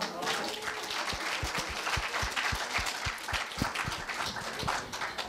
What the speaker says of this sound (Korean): 좋은 발표하신 노현치 학생에게 박수 부탁드립니다